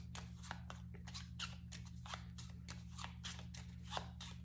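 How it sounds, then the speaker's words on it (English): Board game cards from a discard pile being shuffled by hand, a quiet steady run of soft rhythmic card flicks over a constant low hum. "you just shuffle the discard pile."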